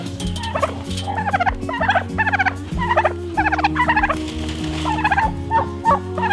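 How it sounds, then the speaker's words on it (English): Eight turkeys on a farm gobble in repeated rapid bursts, loud and close, overlapping one another over a steady low background hum. "do I have 8 turkeys here behind me?"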